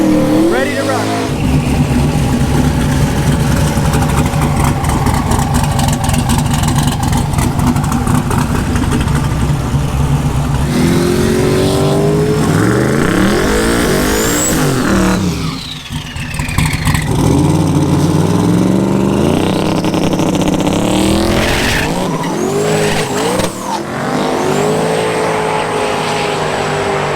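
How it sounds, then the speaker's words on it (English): A twin-turbo Camaro launches down a drag strip at LS Fest 2020, its engine roaring loud and continuous as the tires spin and rev rises and falls, with crowd and background noise mixed in. "it made it out a little bit and then spun, so not the best of luck traction-wise for the twin turbo car today"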